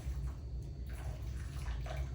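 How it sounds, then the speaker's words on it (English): Hot water pours slowly into a bowl of Jello pudding mix, a continuous close splashing and sloshing stream with a low rushing body, faint and steady, with no talking. "I'm pouring 4 cups of hot water in here, and I'm going to pour it slowly"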